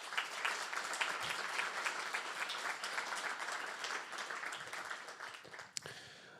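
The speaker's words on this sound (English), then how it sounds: "welcome with a round of applause, Rela Mazali and Tali Konas." An audience gives steady applause to welcome panelists at a discussion event on militarism in Israel. The dense clapping runs throughout at a moderate distance and thins slightly near the end.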